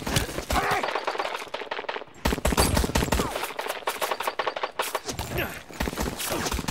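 Dense rapid gunfire rattles through a firefight, bursts of automatic shots cracking loudly and close, with a brief lull before the shooting resumes in fast overlapping volleys.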